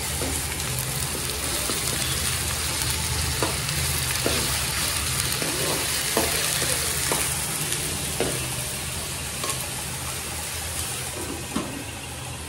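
Chicken frying with ginger and onions in a pan for a curry, a continuous bright sizzle with scattered clicks of stirring and scraping, steady and fairly close, with no speech.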